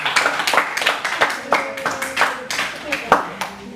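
Distinct, rhythmic claps from a small classroom group for a student team during a religious education lesson, sounding close and uneven, with voices audible between the claps.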